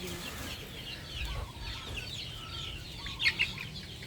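A native hen at a gamefarm gives a few soft, low clucks over quiet farmyard background, with a pair of brief, sharper calls near the end.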